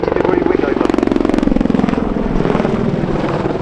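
A WAH-64D Apache attack helicopter flies a roll display at the RAF Cosford Airshow, giving a loud, steady rotor throb with a rhythmic blade pulse that runs without a break while a voice talks over it.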